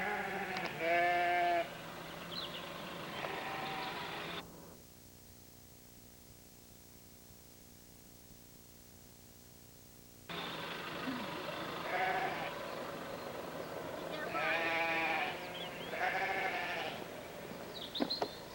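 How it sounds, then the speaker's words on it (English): Sheep in the Irish countryside bleat repeatedly right beside a car, loud and close, with a lull of steady static in the middle before the bleating resumes. "Still get a picture of your sheep."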